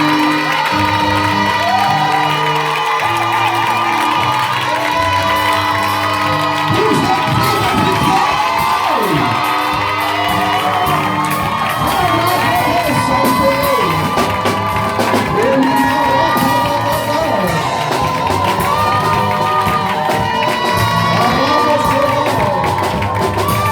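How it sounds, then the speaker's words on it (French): A church congregation cheers and acclaims God loudly and continuously, with shouts, whoops and ululating cries over music. "je vais voir maintenant comment tu vas acclamer celui-là qui t'a donné la vie"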